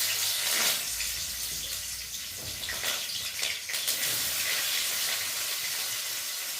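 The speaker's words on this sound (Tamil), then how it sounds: "எண்ணெய் கொதிச்சுட்டு நாங்கள் இனி வெங்காயத்தை போடுவோம்." Sliced onions dropped into hot oil sizzle with a loud, steady broadband hiss that swells briefly near the start and stays constant throughout, with no speech over it.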